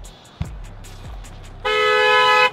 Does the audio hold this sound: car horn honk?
yes